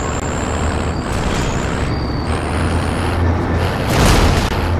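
A truck in Call of Duty Warzone rumbles steadily with a low engine drone, an air-brake style hiss and swell near the end, loud and continuous without talk.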